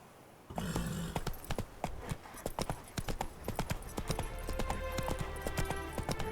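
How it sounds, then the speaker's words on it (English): Horse hooves clip-clop in a brisk, steady rhythm in The Witcher 3, the sharp clear strikes set over faint game ambience and gear rattle. "Whoa there, Roach."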